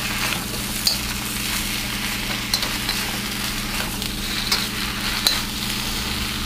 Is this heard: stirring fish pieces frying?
yes